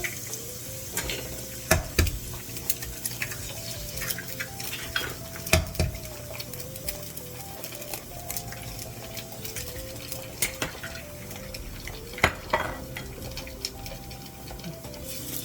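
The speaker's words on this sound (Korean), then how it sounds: "지글지글 끓는 소리가 나면 이렇게 계란을 3개 깨뜨려줍니다." Three eggs sizzle and fry in a pan, steady crackling under repeated scrapes and clinks of a utensil stirring against the metal.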